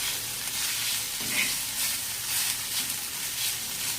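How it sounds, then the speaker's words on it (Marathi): Wheat kurdai chotha roasting in oil in a pan gives a steady, close sizzling hiss with soft scraping from stirring throughout. "याच्यावर आपण अशी थोडीशी तेलाची धार टाकूया आणि मस्त आपल्याला याला हलवून घ्यायचं असं."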